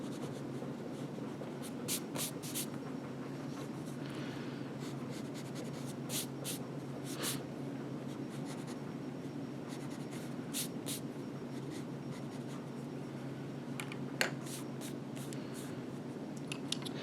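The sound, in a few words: erasing pencil lines on paper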